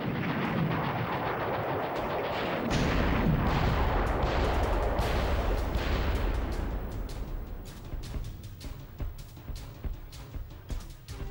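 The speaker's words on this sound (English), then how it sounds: "so now I've got a rocket launcher" A rocket launcher firing in the game Army Men: Sarge's Heroes 2, with heavy booming blasts and explosive rumble that then break into scattered pops and crackles as the sound thins out.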